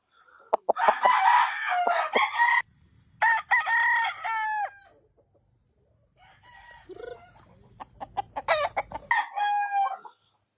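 Roosters crow loudly nearby in long drawn-out calls, separated by a pause, with softer clucking between them, in a backyard in San Ildefonso, Bulacan.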